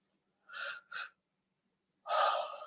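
Deep breaths are drawn in during a lung and heart releasing meditation: two short close inhalations, a pause of silence, then one longer, fuller breath.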